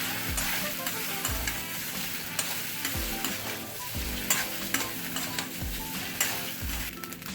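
Steamed rice balls (neer urundai) being stirred and sautéed in a pan, with a steady sizzle and repeated rhythmic scraping strokes of a spatula against the pan, close and clear, with no talking.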